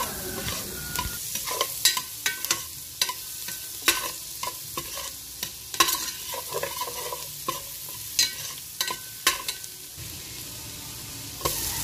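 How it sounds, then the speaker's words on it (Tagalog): Garlic sautéing in butter in a pan for a pot of sopas, stirred with sharp irregular spatula clicks and scrapes over a soft continuous sizzle, close up and without voices. "Ilalagay na rin natin ang bawang."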